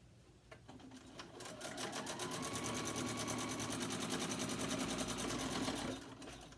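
A sewing machine back stitches the top stitch line of a fabric face mask, a fast even mechanical rattle that runs steadily for several seconds before stopping, close and clear.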